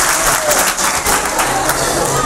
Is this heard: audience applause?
yes